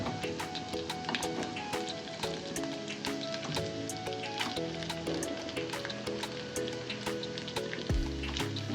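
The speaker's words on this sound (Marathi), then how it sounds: "आता हे तेलामध्ये छान फ्राय होऊन देऊयात" Boiled, cut potatoes fry in hot oil with chillies for a fasting dosa filling, a soft, steady sizzle and crackle with faint sputters, heard close under music with no talking.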